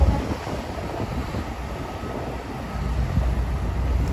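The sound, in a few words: train at Moynihan train station, New York City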